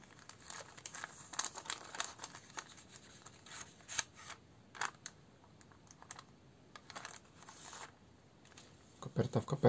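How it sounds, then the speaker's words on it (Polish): Paper crinkles, tears and rustles up close as an envelope from the USA is opened and handled, in quiet scattered bursts with a louder crumple at the end. "Zobaczmy, co jest w tej kopercie"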